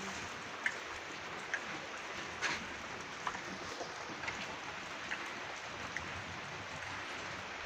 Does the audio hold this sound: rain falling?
yes